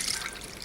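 Hot water splashes and trickles into a bowl holding a lump of tamarind paste, a brief close pour with a light liquid gurgle and no talking.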